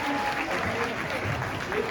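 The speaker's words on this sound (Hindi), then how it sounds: "बहुत जोरदार तालियां इनके।" Audience at a school patriotic and cultural programme clapping loudly for the principal, a dense steady patter of many hands with a murmur of voices and talk underneath.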